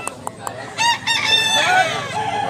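A two-year-old black-legged gamecock crows loudly and close by, one long call after a few short clucks, at a rooster market in Mantalungon, Cebu.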